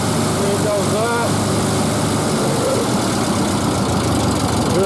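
A Ford 8N tractor engine idles after sitting seven years in a field, a loud, close, steady mechanical rumble with a little knock running continuously, and a brief whistling tone near the start.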